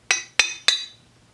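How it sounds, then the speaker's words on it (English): A ring clinks against a stainless steel water bottle three times in even succession, each strike bright and close with a short metallic ring-out, then quiet. "my ring keeps clacking, clinking."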